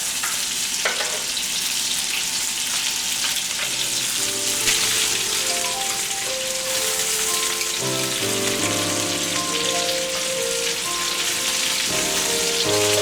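Homemade meatballs simmer in a pan with a continuous bright sizzle and bubbling, loud and close, while background music plays throughout.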